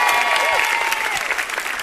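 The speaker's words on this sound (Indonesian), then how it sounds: "Ada Bang Iwel, tepuk tangan Bang Iwel." Studio audience at a televised stand-up comedy battle applauds a comedian, steady dense clapping throughout with a faint tonal whine and crowd murmur beneath.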